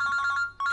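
A telephone rings with a bright electronic trill, two close bursts separated by a short gap, loud and alone with no talking.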